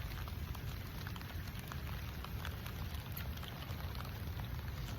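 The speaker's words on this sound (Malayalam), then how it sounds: "ദേ നല്ല മഴയുണ്ട്" Constant rain patters densely on a surface, a soft, even roar with scattered drops and no voices.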